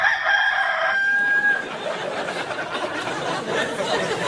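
A rooster crows loudly in a long cock-a-doodle-doo, followed by hens clucking and chattering for several seconds, a close and clear barnyard sound effect.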